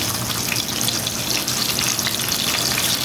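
Arabian-style beef kebabs fry in a pan with a steady, dense, close sizzle and crackle of hot oil that holds evenly throughout, with no voices.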